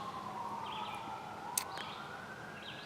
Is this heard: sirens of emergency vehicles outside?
yes